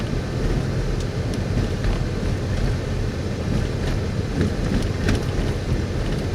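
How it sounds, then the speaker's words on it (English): Strong gusty wind roaring and buffeting the microphone outdoors as a thunderstorm shelf cloud closes in, a dense low rumble with no rain or thunder clearly standing out. "Storm is closing in."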